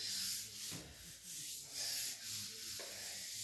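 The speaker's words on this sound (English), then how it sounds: "It is because I'm sanding these walls." Walls are sanded by hand with steady, rhythmic rubbing strokes, a soft hissing scrape that rises and falls with each pass, faint and unaccompanied by speech.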